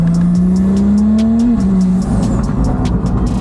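A turbocharged Audi SQ5 engine revs hard, climbing in pitch then dropping briefly before pulling again, loud and close with a faint turbo whistle.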